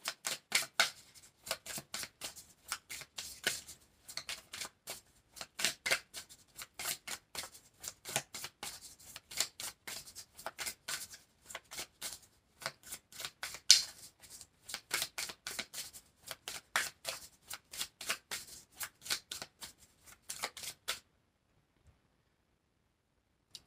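A tarot card deck is shuffled by hand for about twenty seconds in a long run of crisp riffling bursts, close and fairly quiet, ending in silence.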